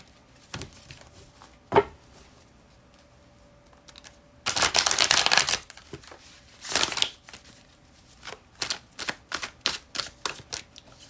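Tarot-style cards are shuffled for a spirit guide reading, giving a series of quick riffling bursts and scattered taps, some sustained for a second or two, close to the microphone.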